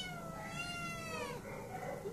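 A held cat meows in a long, drawn-out, wavering cry, close and clear, followed by a quieter second call, with faint room noise beneath.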